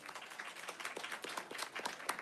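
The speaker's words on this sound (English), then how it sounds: "Please clap if you guys can see the sign." A crowd at a Christmas party claps together in a brief, fairly faint burst of overlapping hand claps, dense and uneven with individual sharp claps poking through.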